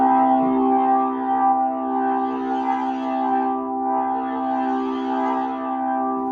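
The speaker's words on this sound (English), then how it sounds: "Just adds a little distortion to it." Nord Stage 3 organ with all drawbars out and the drive effect adding slight distortion, a sustained held chord with a swelling, rotating shimmer, loud and alone.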